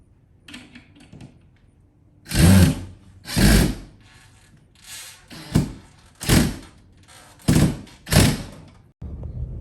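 Screws being tightened with a power tool while garage wall storage shelves are installed, with several loud whirring bursts separated by short pauses, close by.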